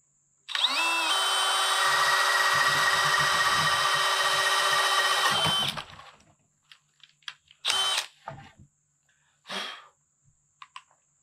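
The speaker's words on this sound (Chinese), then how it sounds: "我现在就拿这个钻头开始要钻孔了。" A power drill bores a hole into wood lumber in one continuous whining run of about five seconds, close and loud, followed by scattered handling clunks and a short second whir.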